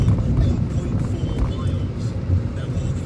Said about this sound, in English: Quite a grunty kind of V6 sound, but it's a 3-cylinder, so you're getting half of that.